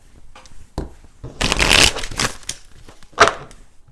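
Tarot cards being shuffled by hand, with loud close riffling bursts and a final sharp snap as the deck settles.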